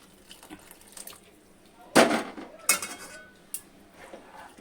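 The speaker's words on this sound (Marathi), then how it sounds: "तर मी याच्यामध्ये पाणी ॲड करते" Water splashes into a pan of pav bhaji in a few short bursts, with light clinks of cookware between them and a quiet background.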